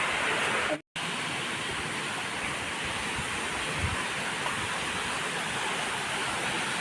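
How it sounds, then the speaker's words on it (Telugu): The Thadikonda waterfall makes a dense, steady roar of rushing water, loud and continuous. A momentary cut in the sound comes near the start. "చూస్తున్నారు కదా, ఇదే వాటర్ ఫాల్స్."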